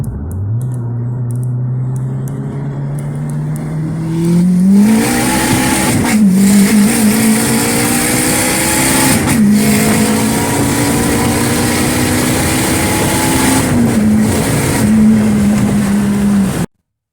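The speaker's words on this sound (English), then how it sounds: "Can we do a second gear pull?" A turbocharged K24-swapped Acura RSX makes a hard second-gear pull: the engine note climbs steadily, breaks briefly at shifts or throttle lifts, then rises again, loud and close for the whole run.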